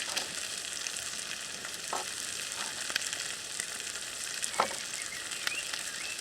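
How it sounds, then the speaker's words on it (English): Ingredients chopped and frying in oil in a RidgeMonkey pan: a constant bright sizzle throughout, with a few faint scrapes of stirring. "They're going to go in with our oil to fry a little bit."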